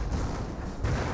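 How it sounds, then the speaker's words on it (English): Officer-called artillery fire in Company of Heroes, a World War II strategy game, rumbling as a dense continuous roar of distant blasts and booms with a fresh surge near the end, with no talk. "Looks like officer artillery."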